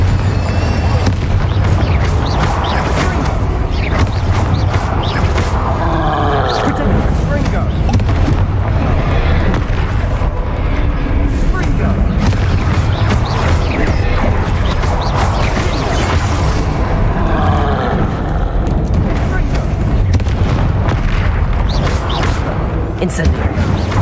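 Fiery spell bursts from the Incendio charm in Hogwarts Legacy, a dense, loud run of crackling blasts and booming impacts that goes on throughout, with voices mixed in.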